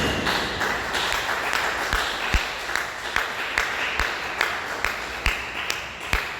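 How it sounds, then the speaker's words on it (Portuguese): A church congregation claps together in a round of applause, with sharp, fairly regular beats standing out over a dense, moderate spread of clapping and a faint murmur of voices. "dê uma salva de palmas bem alegre para Jesus"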